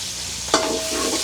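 Curry leaves hit hot oil in a pan with onion and green chilli, giving a sudden loud burst of sizzling that settles into a steady frying hiss, with no voices.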